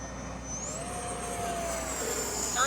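A small E-flite 70mm Viper V2 radio-controlled jet flies overhead with a steady whining turbine-like tone that slowly shifts in pitch, moderately loud and continuous with no talking.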